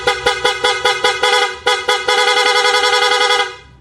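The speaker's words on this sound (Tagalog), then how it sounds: "Working pa rin yung stock horn. Tapos ito yung selector ng Loudhorn na may rapid," An aftermarket loud horn on a Sniper 155 motorcycle, engine off, first blares in a quick series of short bursts, then holds one sustained, rapidly pulsing blast. It is close and very loud.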